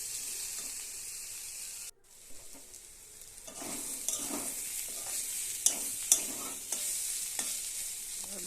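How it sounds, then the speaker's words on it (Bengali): Watermelon rind frying in a pan, a steady close sizzle with repeated scraping stirs and a few sharp utensil clicks against the pan, after a brief pause near the start. "এবার একটু ভাজা ভাজা করে নেই, তারপরে নামাই দেবো।"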